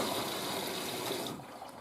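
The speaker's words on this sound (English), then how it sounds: "So this machine adds the conditioner in first to dilute the load and then fills up properly" Faint rushing and gushing of water filling a washing machine drum as conditioner is added, a steady low wash of flow that eases off slightly toward the end.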